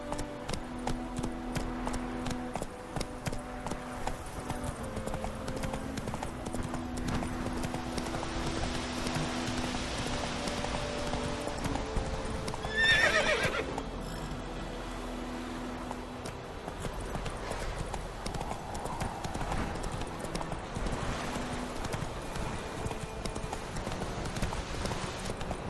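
Roach, Geralt's horse in The Witcher 3, gallops in rapid hoofbeats over game music, with a sharp burst midway before the pace eases into a slower, steadier clip-clop.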